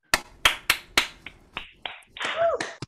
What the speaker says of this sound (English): Everybody, if you'd like to unmute and offer 3 claps